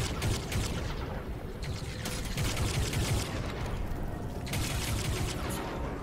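Dense, continuous rapid gunfire from Crysis 3, with bursts of shots layered over a steady roar of explosions and action, loud and close throughout.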